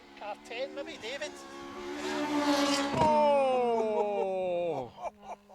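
A two-wheel-drive rally car on a wet stage of the Jim Clark Reivers Rally 2024 revs hard through rising and falling gear changes as it passes close by, with commentators talking over it.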